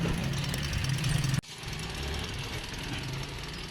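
Small engine idling with a steady, rough mid-range rumble, then cut off abruptly partway through, leaving a quieter residual noise afterward.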